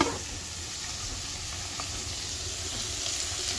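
Rohu fish fries in a pan with a lid on, giving a steady, even sizzling hiss that holds at a moderate level throughout, with no talking.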